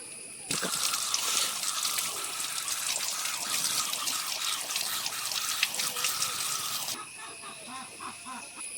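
Leaves are washed under a strong, steady rush of running water that splashes continuously for about six seconds, then stops abruptly, leaving faint drips and small handling sounds.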